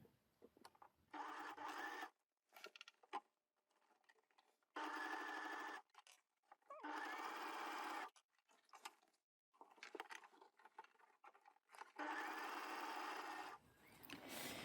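A sewing machine stitches jacket lining in repeated bursts of a few seconds each, with short pauses between runs; the motor whirs steadily and close with no talking.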